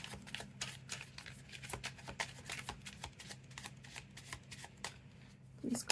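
Tarot cards being shuffled by hand, a quick, steady run of soft riffling flicks close up and fairly quiet, continuing for several seconds.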